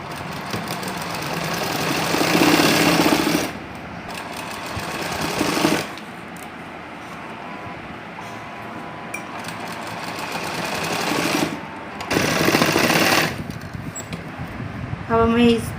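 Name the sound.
sewing machine stitching lehenga fabric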